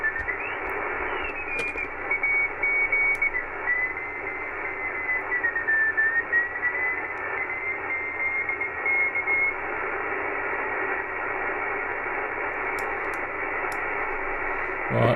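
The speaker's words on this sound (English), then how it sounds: "I'll try a bit of Morse code decoding." Morse code CW signal tuned on an amateur radio receiver, a thin tone keying faintly over a constant bed of loud receiver hiss and static that runs throughout.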